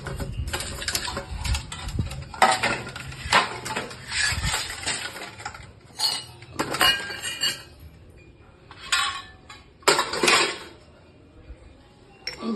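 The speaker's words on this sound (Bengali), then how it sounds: "সব বাসন টাসন মাজতে হবে" Many brass and steel puja dishes and pots are scrubbed and stacked after a home worship ritual, giving bursts of bright metallic clinks and clatters separated by short quiet gaps, with no voices.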